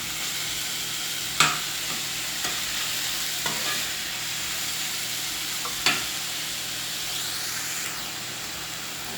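Sweet pepper, chive and parsley fry in a pan for saltfish patties, a steady close sizzle broken by a few sharp clinks of a spoon stirring against the pan.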